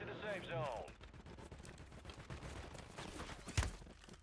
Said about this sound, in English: They're shooting from up there.